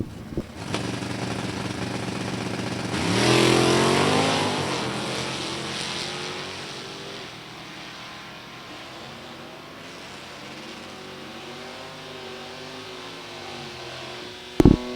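Drag racing cars, a J-Stock automatic Caprice and an H-Stock automatic Camaro with 350 small-block engines, roaring off the line together, the engine note rising loud then fading into a steady distant drone.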